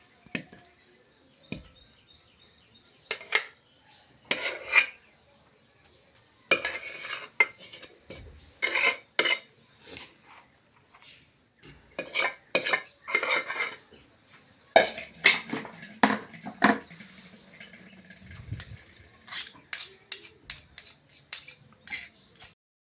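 Cooked dhokli dough, a Kathiawadi dish, is spread out in a steel plate: close, intermittent scraping and clinking of metal utensils against the plate in short bursts with quiet gaps between.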